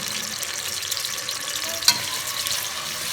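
Chopped onions for haleem frying in hot oil, a steady, even sizzle hissing throughout with one brief clink or crackle near the middle; no voices.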